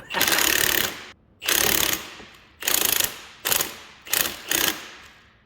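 A hand ratchet runs a nut down on a 2014 1100 Turbo snowmobile chaincase, giving six loud, close bursts of rapid clicking that grow shorter toward the end.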